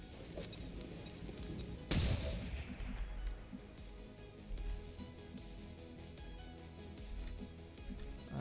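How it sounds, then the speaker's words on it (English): A flashbang grenade goes off in XCOM 2, a sudden loud burst followed by a decaying rumble that settles over game music and ambience. "we're gonna take this opportunity to flashbang right there"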